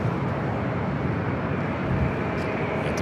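Airliner bound for Osaka taking off down runway 24 left at LAX, a dense, unbroken jet roar with a heavy low rumble, loud and steady across the whole stretch.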